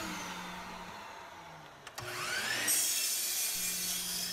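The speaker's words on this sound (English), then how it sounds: "here I'm cutting up some pieces of pressure-treated 2x12 that I bought at Home Depot" A power saw cuts pieces of pressure-treated 2x12 lumber bought at Home Depot, a steady close whine and rasp with a brief clunk partway through, then the motor pitch rising as the cut resumes, with no talking.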